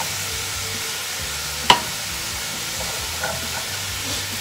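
Spinach dropped into a hot pan over softened, sweating vegetables, giving a steady frying sizzle with one sharp clink near the middle, close and moderate, no voices.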